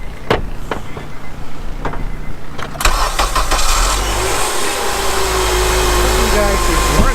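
A car engine cranks and catches, started with a tiny pocket-sized portable jump starter, then settles into a loud, steady close-up idle after a few clicks and knocks.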